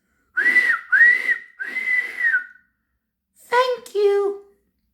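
A voice reading a Thomas the Tank Engine story imitates a train whistle with three sustained whistled toots, then a pause and two more wavering, lower-pitched hoots, close and fairly loud.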